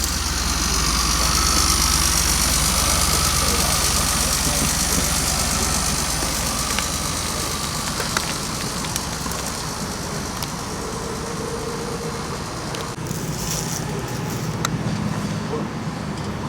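A DeLorean car engine runs at a steady idle outdoors at the DCS 2021 car show, a continuous low rumble that eases slightly in level without a clear pull-away, with faint background noise.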